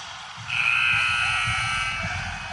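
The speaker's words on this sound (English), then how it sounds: "All right, that's the buzzer." A buzzer sounds at a youth 16U hockey game, one long, loud, steady electronic tone lasting about two seconds, with faint arena noise in the background.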